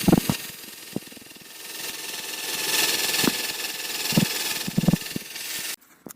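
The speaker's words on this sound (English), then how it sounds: "So I've drilled one bolt out" A power drill bores out a bolt on a Honda Civic Aerodeck gear shifter assembly during a stabilizer bush refurbishment, its motor whirring steadily and close for about five seconds with a few sharp knocks before cutting off.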